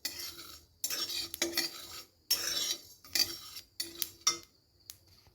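Whole spices stirred in a pan over a low gas flame for olive jelly, giving bursts of scraping and clinking with short pauses between strokes, close and fairly loud.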